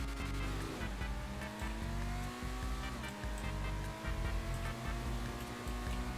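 Benefactor Krieger supercar in GTA Online launching hard off the line, a loud engine roar climbing through gear shifts with brief dips between, close and continuous.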